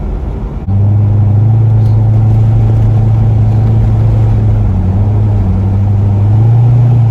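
A 2008 Corvette C6 with the LS3 V8 and Z51 package, fitted with a Pedal Commander throttle controller, drones loudly from inside the cabin as it accelerates, and its pitch dips briefly at quick gear shifts.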